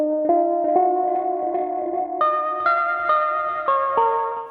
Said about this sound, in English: A bit of echo, a few effects on there.